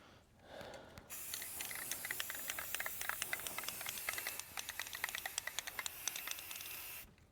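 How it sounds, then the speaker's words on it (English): A close, steady spray-can hiss runs for about six seconds, edged with crackly ticking, then cuts off abruptly, spray painting an old Zuca cart. "This stuff sprays really far."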